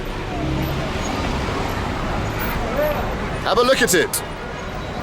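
Street traffic in Kabul: a steady wash of road noise with engines idling and passing vehicles, nearby horns or voices rising near the end, and a person speaking briefly over it.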